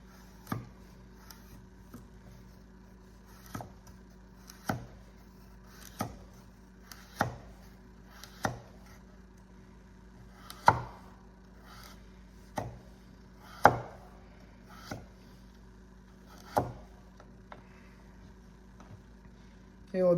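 A knife cuts food into small diagonal snack pieces on a cutting board, with sharp, evenly spaced chops every second or two, close and clear over a quiet background hum.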